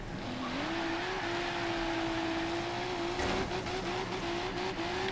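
A car engine held at full throttle in the racing game Forza Horizon 3, a steady loud drone that climbs slightly in pitch early on and then holds, with faint tire or gear noise near the end.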